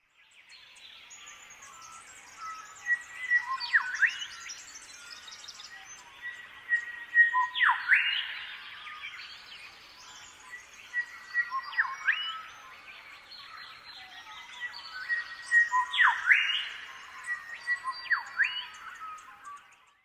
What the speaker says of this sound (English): other shrike thrushes that joined in, they were all singing the same song